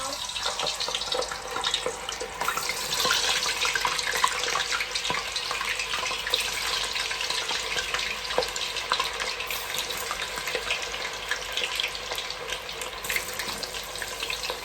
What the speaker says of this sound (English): I'm now gonna start putting in my chips to fry.